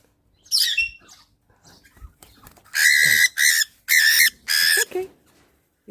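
Pet parrots give a run of loud, harsh squawking calls, four or five close bursts in quick succession after a few softer chirps, with no voices over them.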